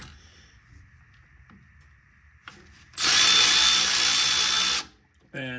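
A power tool loosens bolts on the spindle bracket of a Lexus GX470 during front-end work, whirring loudly in a sustained burst of nearly two seconds and then a brief second burst, after quieter clinks and a voice.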